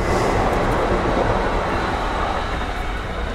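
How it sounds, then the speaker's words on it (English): A train passes nearby, giving a dense, steady, broadband rumble and roar that fills the whole clip with little change in loudness. "It's a train."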